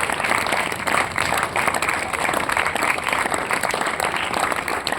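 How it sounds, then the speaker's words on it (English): Students at a school math quiz break into sustained applause for a correct answer, a dense wash of many hands clapping at steady volume for several seconds. "Please give a big round of applause."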